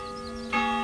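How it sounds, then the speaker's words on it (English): A church bell rings out, a sustained metallic tone with rich overtones, and a fresh louder strike lands about halfway through and keeps resonating. "Church bells summoned the Minutemen, among them William French."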